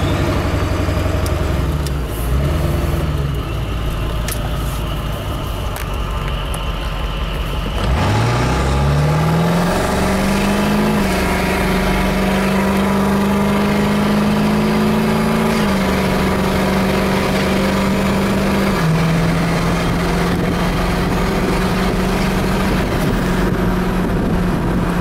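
7.3 Powerstroke diesel pickup with a TS chip on a 0-60 run, idling then rising sharply through a long pull with distinct gear shifts, loud and steady with no talking.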